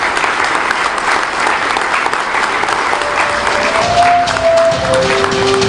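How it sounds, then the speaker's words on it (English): Audience applause for the President at a national ICT summit in Manila, a dense, steady wash of clapping filling the room for several seconds, with a faint sustained tone emerging near the end. "Let us give the President a round of applause."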